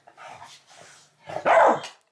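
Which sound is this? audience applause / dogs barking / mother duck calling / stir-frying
dogs barking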